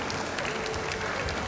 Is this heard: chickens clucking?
no